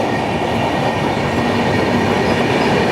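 Gitanjali Express rolling steadily along the rails, a loud continuous rumble of wagons with faint clickety-clack, no voices.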